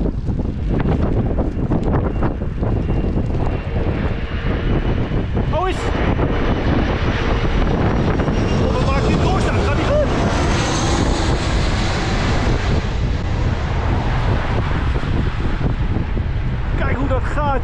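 A loud airplane engine roars close by as the plane lands in strong wind buffeting the microphone, with people talking over the noise.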